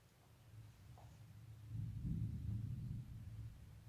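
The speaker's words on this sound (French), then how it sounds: "Ce que vous avez entendu, c'est l'orage." Low, rolling rumble of thunder swelling in the middle and slowly fading, distant and steady with no voices.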